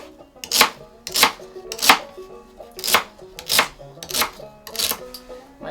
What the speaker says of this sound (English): I'm just going to coarsely chop my celery.